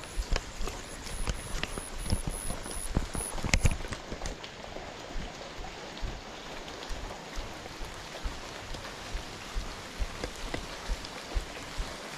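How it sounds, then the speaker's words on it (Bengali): Night rain falling steadily on a traditional fishing trip in Bangladesh, a dense continuous patter with scattered heavier drops and some irregular knocking, loudest in the first few seconds and then evenly spread. "আজকে আবার বিসমুল্লার নামে বৃষ্টি হইতেছে"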